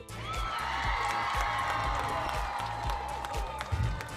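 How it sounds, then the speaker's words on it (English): Warm virtual round of applause mixed with cheering and whoops for an architect at an online happy hour gathering; a steady, dense crowd wash with scattered bright whistles runs throughout at moderate level. "let's all give our warm virtual round of applause"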